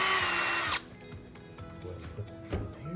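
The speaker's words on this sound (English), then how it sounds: "Let's go ahead and put the drill here." A power drill mixing tabletop epoxy resin whirs loudly for under a second, then stops, followed by quieter knocks and handling sounds.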